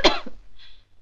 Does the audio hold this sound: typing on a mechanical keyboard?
no